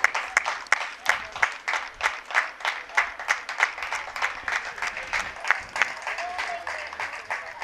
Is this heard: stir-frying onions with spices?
no